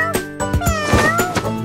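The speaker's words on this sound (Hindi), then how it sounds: "मैंने बिल्ली देखी, म्याऊ म्याऊ म्याऊ।" A cartoon cat meows repeatedly in a children's animal-sounds nursery rhyme, several clear tonal mews in quick succession, close and loud with no talking over them.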